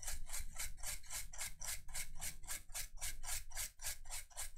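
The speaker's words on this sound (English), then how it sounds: "I might just do a little bit of toothbrushing here and just see if this just clears itself up." Toothbrush dipped in alcohol scrubbed back and forth over a liquid-damaged MacBook Air circuit board, a close, steady run of quick rhythmic bristle strokes with no talking.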